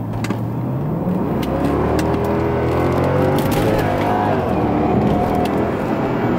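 A 2009 Mercedes-Benz S63 AMG W221 cruises down a highway, its engine and road roar steady and loud from inside the cabin throughout, with tire and wind noise rising slightly midway.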